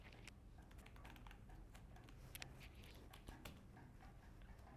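Rapid, uneven clicking of a computer keyboard as someone types HTML code, steady keystrokes close up throughout with no voices.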